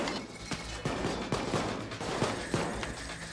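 Sniper rifle fire in PAYDAY 2, a string of sharp, evenly spaced cracks about every half second, moderately loud against a busy game background.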